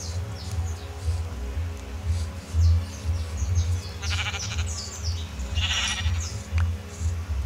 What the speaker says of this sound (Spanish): Sí, por fin tres ovejas,